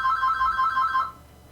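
A telephone ringtone trills steadily and loudly for about a second, then cuts off, leaving quiet room noise.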